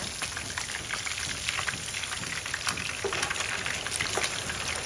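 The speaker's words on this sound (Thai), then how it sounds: "เสียงฝนตกต้องขออภัยด้วยนะคะ คุณผู้ชม เสียงฝนอาจจะดังหน่อยนะ" Steady rain falls hard and close on surfaces outside a kitchen, a dense continuous hiss of drops that stays loud and even throughout.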